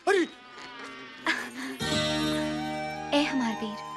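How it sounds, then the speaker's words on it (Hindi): A swarm of attacking bees buzzing in a comedy scene, a steady droning hum with sharp bursts layered over music and effects, loud and close. "अरे मधुमक्खियों ने आक्रमण कर दिया है"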